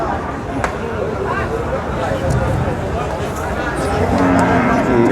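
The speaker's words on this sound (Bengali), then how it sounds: "আমরা দেখছি ঐতিহ্যবাহী বসুনি হাটের হাড্ডি গাই গরু বাজার" A low cow moo rises over a busy outdoor crowd babble at the Bosunia cattle market in northern Bangladesh, with people talking throughout and occasional knocks.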